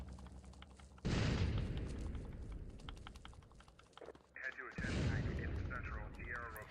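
Grenade explosions in GTA San Andreas, two sudden booming blasts a few seconds apart, each with a long rumbling tail, set against faint game sounds, keyboard-like clicks and quiet talk.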